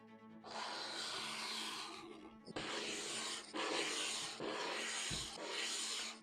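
A steel card scraper shaves a wood surface in a run of long rasping strokes, each a dense, airy scrape separated by brief pauses, close and steady with no voices.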